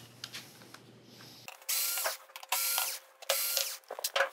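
A power driver removes screws from a Sony XBR-49X800G television in several short, close whirring bursts, separated by brief pauses, after a quieter stretch of faint handling noise.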